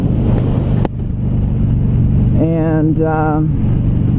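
A 2016 Harley-Davidson Low Rider motorcycle rides with a loud, steady engine drone and heavy wind rush, the pitch rising and falling briefly near the end; a voice speaks a single word at the start.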